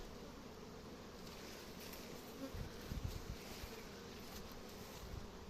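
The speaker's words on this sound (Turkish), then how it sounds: "Arılar güzel polen getiriyor." A steady, dense buzzing of many honeybees at skep hives fills the air, close and continuous, with a few louder low swells as insects pass near.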